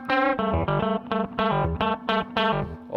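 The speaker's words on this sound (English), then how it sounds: "Start to get your usual ring modulation tones in it." Distorted, metallic ring-modulated tones from a Moog Minifooger effects pedal, played as a rhythmic series of choppy, buzzing note bursts with shifting pitch, loud and alone.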